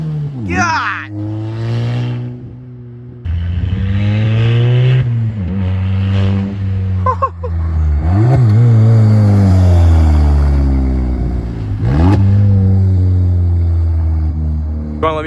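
A 2017 VW MK7 GTI revving hard with a Black Forest Industries dogbone mount insert, engine rising and falling in several surges with turbo whoosh between, loud from inside the cabin while people talk and exclaim.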